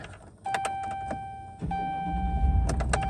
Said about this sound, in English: Now, if I start the truck,